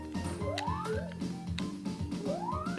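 Sonic 3 level music plays from a PAL Sega Mega Drive, a fairly quiet chiptune with bouncy bass notes and rising synth slides repeating in a quick rhythm.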